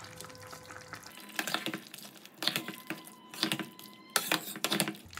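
Bori fried with poppy-seed paste, mustard, green chilli and ginger being stirred in a pan, heard as repeated scraping and wet sizzling bursts in an uneven rhythm, close and moderately loud, with no talking.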